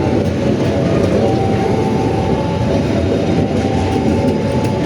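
Taksaka executive passenger train running on the rails, a loud steady low rumble with faint rhythmic clatter from the wheels, heard continuously as if from inside the carriage.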